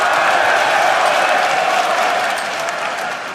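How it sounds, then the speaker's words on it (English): An esports arena crowd at an LCS League of Legends match cheering, clapping and chanting, a dense, loud roar of applause and voices that eases slightly toward the end. "as the crowd is chanting Froggen"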